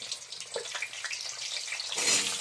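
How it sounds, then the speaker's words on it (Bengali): Potatoes frying in hot oil in a wok, a steady hiss and crackle that swells louder toward the end, with no voices. "আমি কড়াইতে তেল ঢেলে দিচ্ছি। আমি আলুগুলো ছেড়ে দিচ্ছি।"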